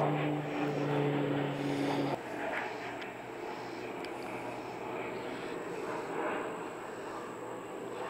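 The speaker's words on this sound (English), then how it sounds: "Excuse me, there's a plane coming over." A propeller-driven plane passes overhead outdoors, a broad steady drone that swells and lingers across the whole stretch, with a low engine hum prominent early before settling into a sustained distant roar.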